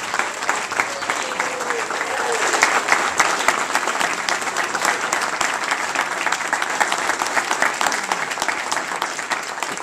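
An audience at a police honors ceremony for New Jersey officers in Brooklyn applauds in a sustained, dense burst of clapping that stays fairly loud and even throughout, with faint voices mixed in.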